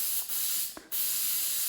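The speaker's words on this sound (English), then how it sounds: "So you spray one surface," A short hissing spray from an aerosol can of glue activator, one brief burst between steady background hiss, close to the listener.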